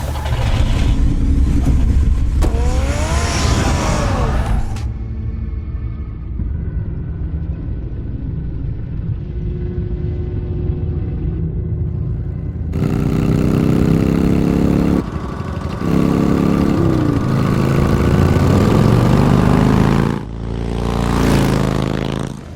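Car engine revving and pulling away in Batman: The Telltale Series, a loud low rumble with idling and bursts of acceleration that rise and fall across the stretch, with no talk over it.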